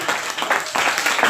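A church congregation at a Saturday worship service claps together in a dense, lively burst of applause that runs steadily for a moment, with voices mixed in beneath the clapping.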